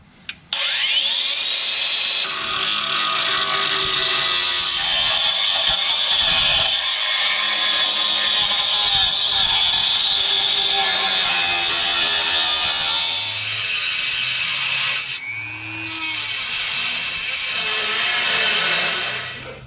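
A power tool saws through the metal spare tire winch cross member under a 5th-gen Toyota 4Runner, a loud, steady, high-pitched grinding whine that runs almost continuously, dips briefly, then resumes.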